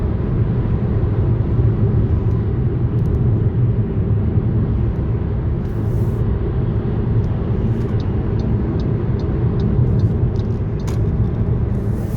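An MG ZS car moving calmly with traffic, heard from inside as a loud, steady low road and engine rumble that runs unbroken, with a few faint light clicks and no talk.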